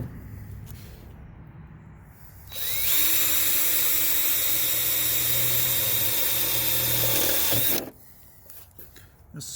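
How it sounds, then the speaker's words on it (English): A power drill boring pilot holes for stainless steel screws on a school bus conversion, a close high-pitched whine that rises then holds steady for about five seconds, with quiet handling noise before and after. "we're drilling pilot holes for the stainless steel fasteners for the marker lights"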